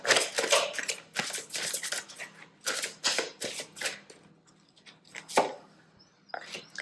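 Tarot cards are shuffled and drawn in quick papery bursts of riffling and flicking, close and moderately quiet, with short pauses between shuffles.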